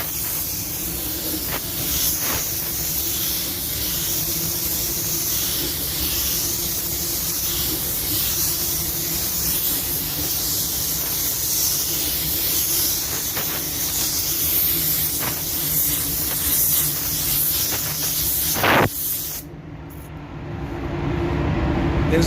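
Spray gun laying candy red paint onto the side of a car, giving a steady, loud, continuous hiss for nearly twenty seconds before cutting off abruptly.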